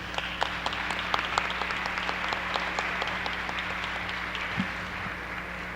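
Audience at a diplomatic event on Mexico's ambassadors in Europe clapping, a moderate scattered round of applause with irregular individual claps that thins out toward the end.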